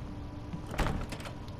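A locked door in the Resident Evil HD Remake video game is tried, giving one brief rattling clunk midway over a quiet, steady game ambience, with no talking.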